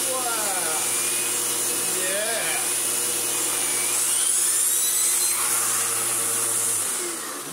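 A Sebo X7 upright vacuum cleaner runs with a steady, loud whine and rushing airflow, its pitch wavering slightly, while a person briefly exclaims over it.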